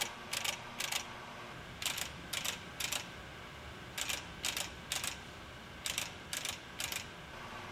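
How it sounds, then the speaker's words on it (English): A Pro-Cut PFM 9.2 on-car brake lathe clicks while automatically adjusting for runout, making quiet paired clicks that repeat in short clusters roughly every second over a steady machine hum. "A series of clicking sounds will be heard when the lathe adjusts for runout."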